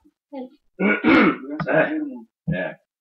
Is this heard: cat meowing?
no